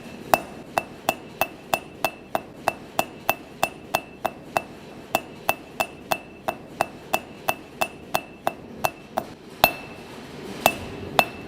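A blacksmith's hammer rings on hot steel over an anvil while drawing out a taper, sounding as a fast, regular series of bright metallic strikes, roughly two per second, close and loud, with a few heavier blows near the end.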